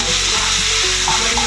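Ground spice paste hits hot oil in a pan for a Bengali sarputi fish curry, giving a loud, continuous sizzle and crackle with a few soft stirring scrapes, and no talking.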